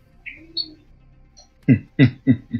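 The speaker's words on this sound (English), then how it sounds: "I'm just going to leave my mic open and put my birds up here next to the mic." Pet birds perched beside an open microphone give a few soft, high chirps, followed by a run of four louder, lower cooing or clucking calls in quick succession, up close with no talk.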